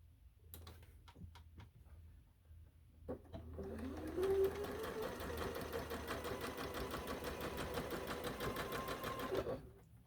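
A slowed-down sewing machine stitches fabric pumpkins, starting with a few clicks and handling sounds, then running in a steady, close, rhythmic whir for several seconds before stopping.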